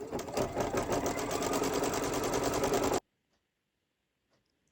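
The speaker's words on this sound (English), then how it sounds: "I'm going to do the stitch outline. It's just stitching it right onto the stabilizer." An embroidery machine stitches an outline onto stabilizer in the hoop, a loud, fast, even mechanical chatter lasting about three seconds and then stopping abruptly into near silence.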